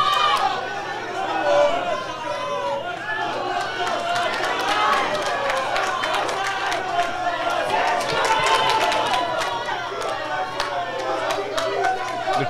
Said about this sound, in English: The crowd's really getting behind these two.